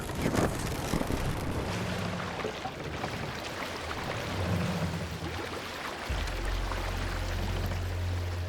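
A longship under sail in Assassin's Creed Valhalla, a steady rush of wind and water sloshing against the hull, with a low rumbling swell building near the end.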